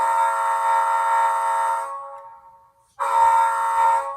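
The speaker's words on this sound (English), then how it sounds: "Let's hear some horn action." Horn of a Rapido HO scale C36-7 model diesel locomotive in Conrail livery sounds two loud, close blasts: a long one that fades out, a short gap, then a second blast, with no talk.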